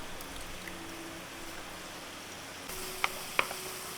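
Carrots and cabbage sauté in a pan with a faint, steady sizzle that grows slightly brighter partway through, plus a couple of soft clicks from the utensil near the end.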